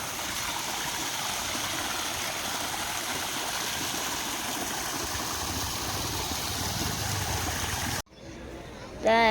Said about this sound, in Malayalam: ഇതാ ഇവിടെ ഒരു തോട് ഒലിച്ചാണ് വെള്ളം